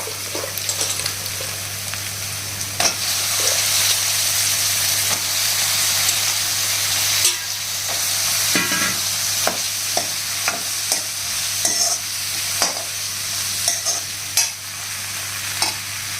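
Brinjal pieces frying in ginger garlic paste, a constant close sizzle punctuated by sharp scrapes and clacks of a spoon stirring the pan, loud and steady with no talk.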